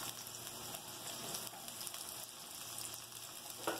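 Chopped onion frying in a pan, a continuous close hiss and crackle of sizzling oil with steady intensity throughout and no talking.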